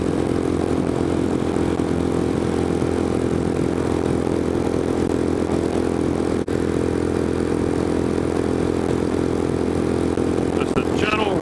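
Scram 411 motorcycle cruising at close to 70 mph, a steady droning engine note with constant wind rush throughout, loud and unbroken, with a brief click partway through.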